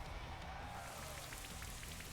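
Rain effect from the Rain Dance move in the Pokemon Sword game, a steady soft hiss of falling rain with faint patters, quiet and continuous with no voices.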